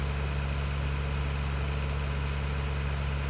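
A farm tractor, an older model too underpowered for hauling grain on hilly ground, runs at a steady idle, giving a continuous deep rumbling hum with a constant mechanical drone, close by and with no talking.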